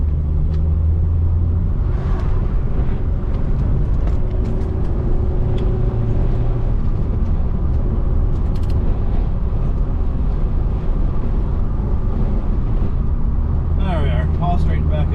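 An early-2000s Honda Civic fitted with eBay coilovers drives along, its engine and road rumble steady and close inside the cabin, with a gear change audible near the end while someone talks over it.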